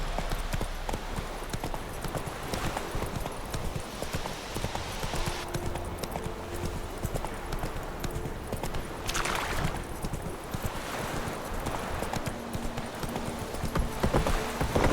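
A horse's hooves drum in a steady, fast gallop across ground in The Witcher 3, loud and continuous throughout over ambient game sound, with brief speech mixed in.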